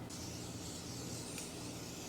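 A setting spray is spritzed onto the face in one steady, close hiss lasting about two seconds, alone with no talking.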